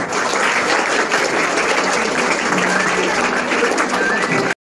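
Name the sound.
audience applause at school farewell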